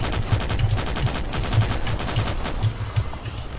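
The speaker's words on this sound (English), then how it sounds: "I need to use like chain gun." Chain gun fire in the video game Doom 3: rapid, rhythmic bursts of automatic shots repeat steadily over a dense, continuous game soundscape, with no talk.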